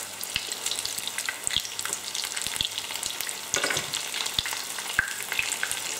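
Onion rings fry in hot oil with a steady close sizzle and scattered small pops and crackles, with no voices.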